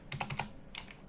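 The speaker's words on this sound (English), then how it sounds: "you just need to go into your application lenses and start typing screenshot" A computer keyboard is typed on in a short, close burst of several quick, crisp key clicks, then a couple more taps.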